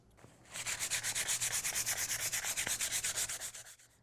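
A wooden dowel is sanded by hand in quick back-and-forth strokes, each a bright, rasping scrape in an even, rapid rhythm, close and steady for about three seconds before trailing off.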